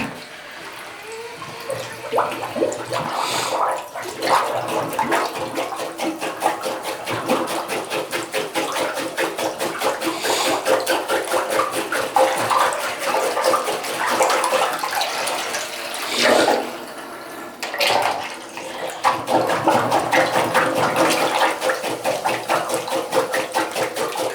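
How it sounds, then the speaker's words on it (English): Water sloshing and gurgling steadily in a clogged toilet bowl worked with a master plunger, a continuous wet churn with brief surging pulses and short pauses, close by and fairly loud, no voices. "So this is the master plunger."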